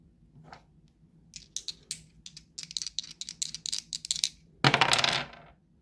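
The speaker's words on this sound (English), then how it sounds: "Okay, first roll of the dice." A six-sided and a twelve-sided die rolled together, a quick run of close, crisp clattering taps as they tumble across a hard surface, ending in a brief louder rattle before settling.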